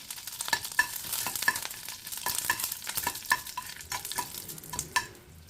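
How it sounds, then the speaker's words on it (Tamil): Curry leaves frying in melted ghee, a steady close sizzle with scattered sharp pops and crackles as the leaves crisp up, no voices over it. "நெய் நல்லா உருகுனது இந்த தேவையான அளவுக்கு இந்த மாதிரி கறிவேப்பிலை போட்டுக்கங்க. அது பொரிஞ்சது தனியாக எடுத்து வச்சிடலாம்."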